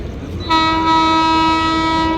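The Sealdah–Bamanhat Uttarbanga Express, hauled by a WAP7 electric locomotive, pulls into platform 3 at night, its loud, multi-tone horn blaring close by and held steadily after a half-second of rumbling approach.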